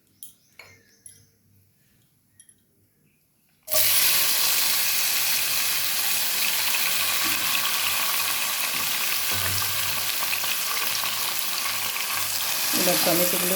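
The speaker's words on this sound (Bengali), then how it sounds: "কড়াইয়ে তেল গরম হয়ে গেছে, এবার আমি টমেটোগুলো ছেড়ে দেবো।" Tomatoes hit hot oil in a wok with a sudden loud sizzle that continues steadily while a utensil scrapes and stirs, following a few quiet clinks beforehand.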